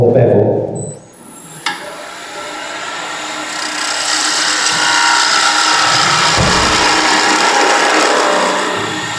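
A blade cutting on its bevel into wood gives a steady, close, abrasive rasping that runs for about eight seconds after a short sharp knock, with a brief quiet pause before the cutting begins.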